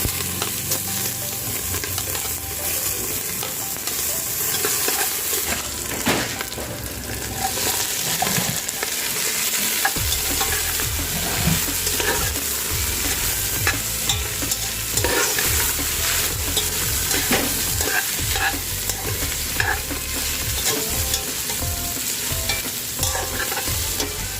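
Onions sizzle in a hot pan for Filipino sisig while a spatula stirs and scrapes them, a steady close frying hiss with repeated stirring knocks throughout and no talking.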